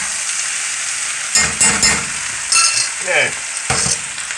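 Chicken pesto sizzles steadily in a pan while a spoon stirs it in several short scraping bursts; a single brief spoken word comes partway through.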